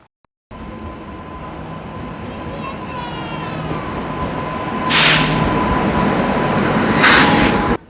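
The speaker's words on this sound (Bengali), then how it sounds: "চলে আসলো আমাদের তেবাগা এক্সপ্রেস" The Tebhaga Express rumbles steadily into a station platform, wheels grinding with a thin metallic squeal, and two short bursts of hissing brakes or air near the end.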